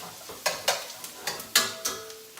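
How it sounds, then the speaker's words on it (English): Food for a Joe's Special frying in a hot pan, with a steady close sizzle broken by several sharp stirring scrapes and taps of the utensil, and no voices. "You can still hear it sort of sizzling in the pan, which is what we're looking for."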